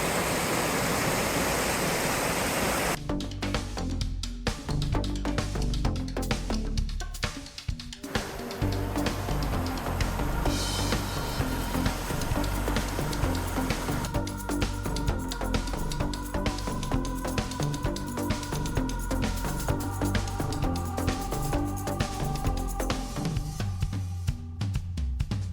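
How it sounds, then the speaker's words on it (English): A mountain creek with small cascades in Kananaskis rushes steadily and loudly as a continuous broadband water roar, shifting slightly in tone as the listener walks along the trail. "nice little stream here."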